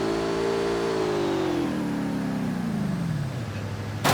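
A car engine in the battle royale game Rules of Survival revs high and then winds steadily down in pitch while driving, a continuous close drone with no talking.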